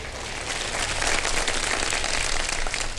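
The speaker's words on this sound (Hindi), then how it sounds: "बजा दे तालियां, बजा दें एक बार फिर।" A television studio audience breaks into sustained applause, a broad, steady wash of many hands clapping with no break for three seconds.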